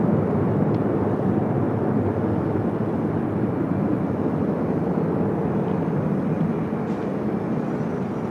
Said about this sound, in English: This is Emirates Flight 215 Super coming in from Dubai on the A380.